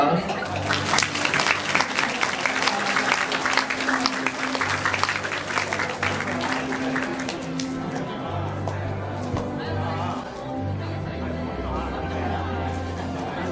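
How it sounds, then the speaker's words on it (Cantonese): Guests applaud at a wedding cake-cutting ceremony. Dense clapping starts loud and sustained, mixed with crowd noise and background music, then thins toward the end. "請鼓掌"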